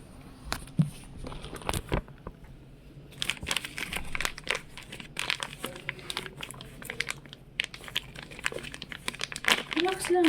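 A packet of cat food is torn and crinkled open at close range, giving irregular plastic rustles and crackles in bursts with quieter gaps, while someone speaks softly in between.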